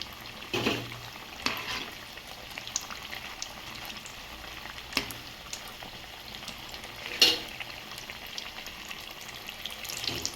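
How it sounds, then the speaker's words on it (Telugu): Ridge gourd bajjis in gram flour batter deep-fry in oil with a soft, steady bubbling sizzle, close by, broken by occasional sharper crackles and clinks of stirring, with no voices. "బజ్జీలు అయితే బాగా వేగాయండి"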